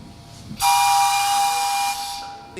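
A miniature steam locomotive's steam whistle blows loud and close in one sustained shrill blast with a hissy edge, held for about a second and a half before tapering off.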